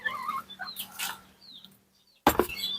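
Young chicks under a month old cluck and peep in short, scattered calls, with a sharp louder burst near the end, close by and with no talking.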